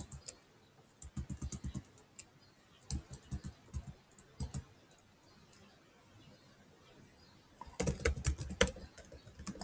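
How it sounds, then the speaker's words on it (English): Someone types a command in a terminal on a computer keyboard, giving bursts of quick, close key clicks with short pauses between runs and a denser flurry near the end, all fairly quiet. "you need to type a command in your terminal"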